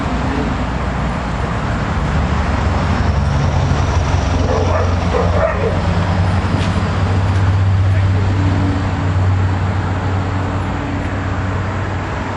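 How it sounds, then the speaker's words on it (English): A dog barks a few times at a distance over steady traffic and road noise, with a person speaking nearby, in a setting where a 1971 Camaro back glass is being installed. "Apparently we have a wild dog on our hands."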